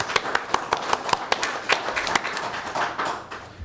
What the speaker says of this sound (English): Can I get a hand clap for that?